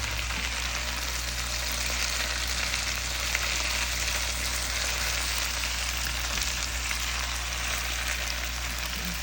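Ackee frying in a pan with adobo, a steady dense sizzle that holds level and close throughout with no distinct stirring strokes and no talk.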